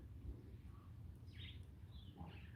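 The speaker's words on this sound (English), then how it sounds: "The only things you hear is the birds." Faint bird chirps and short calls ring out a few times over a low outdoor rumble, distant and sparse.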